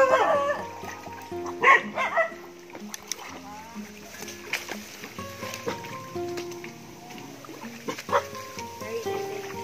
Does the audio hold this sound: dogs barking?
yes